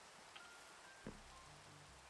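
Steady rain falls in Minecraft as a faint, even hiss throughout, with a couple of soft taps and no speech.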